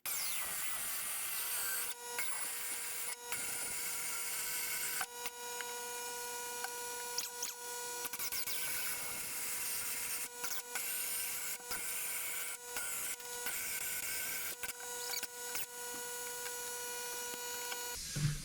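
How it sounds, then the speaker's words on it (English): A drill with a 20mm Forstner bit grinds steadily through wood with a droning whine, pausing briefly several times before starting up again. No voices. "take a 20mm Forstner bit just to be able to get the washer through it and drill out these two holes"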